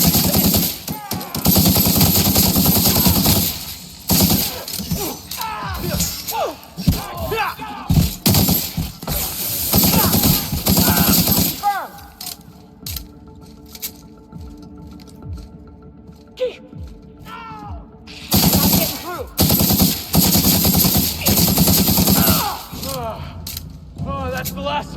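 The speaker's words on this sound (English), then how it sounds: "Opening fire!" Rapid bursts of gunfire from The Outer Worlds Peril on Gorgon combat, loud dense volleys in the opening stretch, a quieter lull with music, then another heavy barrage near the end.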